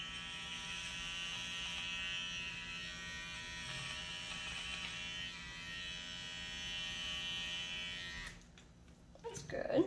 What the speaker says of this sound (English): I'm flipping and I'm doing this direction with this clipper